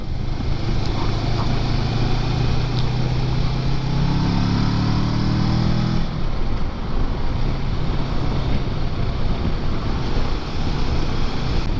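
Kawasaki Versys motorcycle cruising along the Rance river, engine drone steady and close under heavy wind buffeting, with a harmonic pitch shift near the middle as the ride continues.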